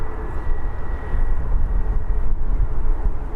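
Airliner taking off from the runway at Birmingham Airport, a loud, steady low jet roar rumbling continuously from a moderate distance, with no talk over it.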